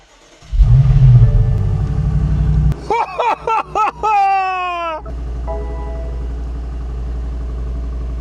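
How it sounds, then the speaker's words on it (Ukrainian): A crash-damaged BMW X5M bought from the US starts for the first time: a loud rumbling crank gives way to stuttering bursts and a rising whine, then settles into a steady low idle. "Тачка завелася і пішов такий звук, що я спочатку подумав, що вона нахрен зламана."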